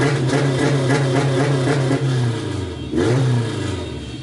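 A car engine revs hard and loud, rising and falling in pitch with a brief dip before climbing again, close by with no talk.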